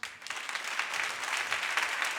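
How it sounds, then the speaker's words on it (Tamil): A church congregation applauds loudly during a sermon on godly fatherhood: steady, dense hand-clapping from a large crowd that holds evenly throughout, with no voices over it. "இந்த ரெண்டு கூட்டமும் கொஞ்சம் பலமா கைதட்டுங்க பார்க்கலாம்"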